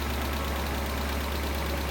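A Mazda Miata engine idles steadily after an engine swap, a constant low, even hum with a faint rhythmic pulse, close and loud throughout, with no talking.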